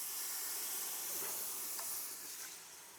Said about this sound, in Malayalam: നമുക്കൊന്ന് കഴുകി ഇതിൻ്റെ അകത്തോട്ട് വെള്ളം ഒഴിക്കാം.